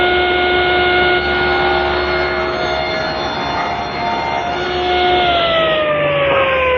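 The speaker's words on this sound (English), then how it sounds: "Place that freshly jointed edge against the fence and rip it." A table saw rips a freshly jointed board held against the rip fence, giving a loud, steady motor whine with a sustained cutting drone that runs the full length and drops in pitch near the end as the blade loads.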